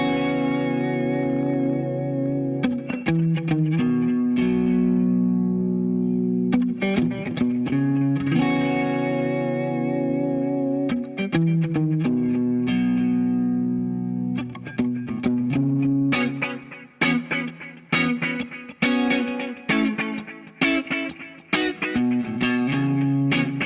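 Clean electric guitar chords, run through a delay modeled by a Line 6 M9 and light Dynacomp compression, ring out with shimmering echoing repeats and sustained arpeggiated chords in phrases, loud and alone.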